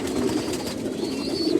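A red checker pair of racing pigeons cooing close by, soft throaty repeated coos over a low murmuring bed, with no talk.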